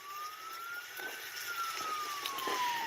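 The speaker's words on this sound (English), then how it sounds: "You can see the sirens going off." A siren tone slowly rises and falls, steady and fairly loud, over a dense wash of background noise with no voices.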